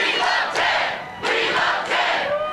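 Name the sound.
crowd at a Ted Cruz rally in Cleveland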